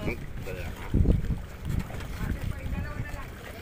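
Water splashes and wind buffets the microphone during a small boat ride, with people talking nearby.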